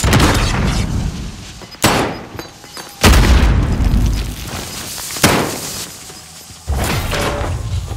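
Loud grenade blasts and booming impacts burst in the Call of Duty Warzone battle royale, several heavy explosions in succession with crashing, rumbling tails close up.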